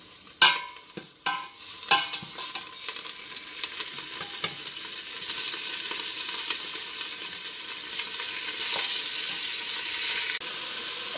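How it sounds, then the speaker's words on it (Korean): Beef stir-fries in a pot with cooking oil for Korean spicy beef soup, yukgaejang, opening with a few metallic clanks of the utensil before settling into a steady close sizzle. "그리고 이제 소고기를 볶을게요."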